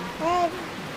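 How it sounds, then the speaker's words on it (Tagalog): A constant wash of heavy tropical storm rain in the Philippines, with a brief voice sounding over the steady downpour. "Madilim ulit ang panahon at malakas ang ulan."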